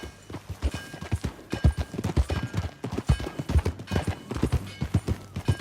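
Horses trotting in Red Dead Redemption 2, with steady, loud clip-clop hoofbeats in a quick overlapping rhythm from several animals close by, continuing throughout without speech.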